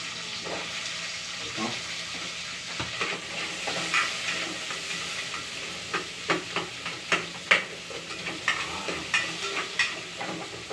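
Bitter gourd frying in a pan and being stirred, a steady sizzle with scraping and clinking stir strokes becoming more frequent toward the end, close by, with a little talk.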